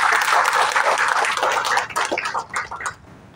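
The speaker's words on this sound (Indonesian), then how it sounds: "Tepuk tangan." Audience applause at a PSI Jakarta Selatan party gathering, a dense burst of clapping that thins into scattered claps and fades out over about three seconds.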